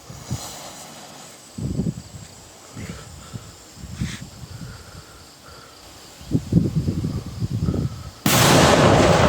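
A powerful firecracker goes off outdoors: a few low dull thuds and rumbles build up, then a sudden loud, harsh blast bursts out and roars on to the end.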